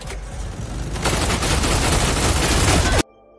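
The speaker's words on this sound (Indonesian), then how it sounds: "Tak lama Smith dan pasukan memberondong rumah itu dengan tembakan." A loud, dense barrage of film gunfire roars continuously for about three seconds as a house is sprayed with shots, then cuts off abruptly into quiet.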